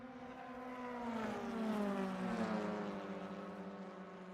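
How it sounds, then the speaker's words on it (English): British touring cars race at Thruxton in the SimHaus BTCC video game, a single engine note droning past with a rising then falling pitch as it sweeps by, fairly distant and unaccompanied by talk. "beautiful sounding British touring cars, so we can hear them across the fields of"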